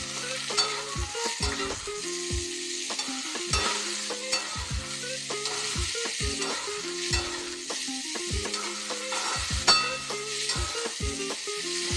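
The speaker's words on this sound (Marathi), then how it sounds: "छान असं परतवून घ्यायचं।" Onion and green tomatoes fry in a pan under a constant sizzle, punctuated by repeated scraping, clanking strokes of a spoon against the metal as they are stirred, no voices.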